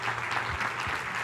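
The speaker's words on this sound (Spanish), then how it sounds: "dale un fuerte aplauso al Señor" Church congregation applauding during a sermon, a brief burst of steady, moderately faint clapping.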